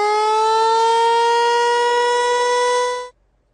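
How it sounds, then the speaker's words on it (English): A tornado warning siren sounds during a test in Nashville: a loud, steady, harmonic wail that holds for about three seconds and then cuts off abruptly into silence. "Metro's Office of Emergency Management will be testing 93 tornado sirens today at noon."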